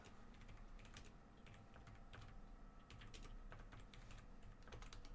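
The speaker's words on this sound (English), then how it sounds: "Sounded like someone typing." Quiet, steady clicking of keys on a computer keyboard, irregular taps continuing throughout with no voices.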